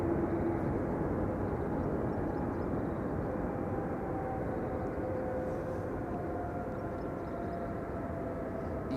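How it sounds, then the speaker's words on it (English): KLM Embraer E2 airliner arriving at Amsterdam Schiphol Airport, a steady, loud broadband jet roar with a faint whine, sustained throughout with no talking. "The KLM on the left is an E2 Embraer arriving from Bologna."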